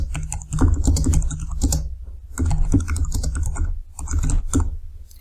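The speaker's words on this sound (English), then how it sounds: "So I type that in" Close, crisp keystrokes on a computer keyboard come in three quick runs of typing separated by short pauses, while a text prompt is being entered.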